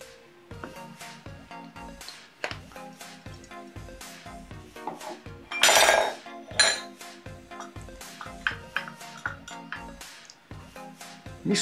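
Glass and spoon clinking repeatedly as a catuaba caipirinha with cachaça is stirred from the bottom up, a steady series of close, sharp clinks with one louder rattling burst midway.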